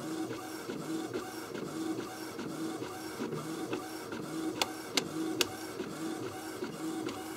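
A printer prints pages of an e-book, a steady mechanical whirring and rolling with faint rhythmic shuffling and a few sharp clicks partway through, fairly quiet and close.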